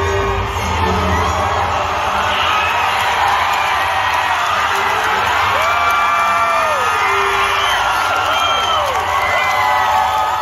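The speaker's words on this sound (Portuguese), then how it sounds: "Bota os gritos aí, Joel." A large convention crowd in the D23 hall screams, whoops and cheers continuously and loudly, a dense wall of excited voices with no pauses throughout.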